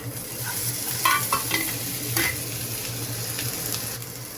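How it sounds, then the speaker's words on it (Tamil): Tomatoes sauté in a pan with a loud, steady, juicy sizzle up close, broken by occasional stirring scrapes and clinks. "நல்லா ஜூஸியாக வதங்குற வரைக்கும் வந்து ஃப்ரை பண்ணிக்கோங்க, சாட்டே பண்ணிக்கோங்க"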